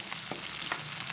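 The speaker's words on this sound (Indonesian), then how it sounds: "Aku tumis-tumis ya Bun." Shallots, garlic, galangal, chili and bay leaves stir-frying in hot oil in a wok, a steady loud sizzle with a few soft scraping stirs, no talking.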